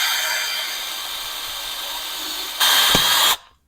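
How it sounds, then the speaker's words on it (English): Power drill bores out rivets on a motorcycle engine part during a big bore kit and cam upgrade, a steady grinding whir running close and loud, then a sharper, brighter burst near the end before cutting off. "going to drill these rivets out"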